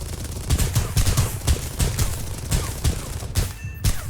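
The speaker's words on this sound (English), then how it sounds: "the AAA starts firing at me right about now and really does light me up" Anti-aircraft guns fire at a Bf 109 E-1 fighter in War Thunder, a rapid, loud fusillade of overlapping bursts of gunfire over engine drone with no pauses.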